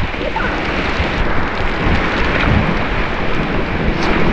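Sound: riding a mountain bike through a waterfall

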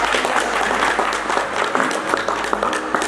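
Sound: loud applause for the minister

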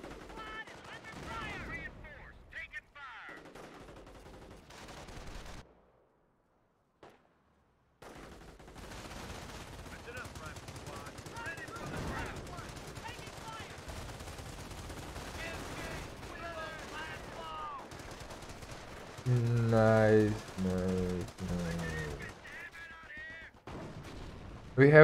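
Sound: machine gun and mortar fire in video game Company of Heroes

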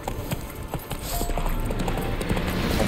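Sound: horse galloping hooves in video game The Witcher 3

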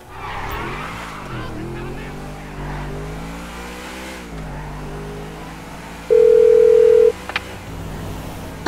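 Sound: phone call ringing in Grand Theft Auto V video game

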